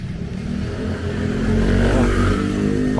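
A noisy motorcycle engine runs close by on a street near a car repair shop, a steady mid-pitched drone that swells louder partway through, heard alone without talk.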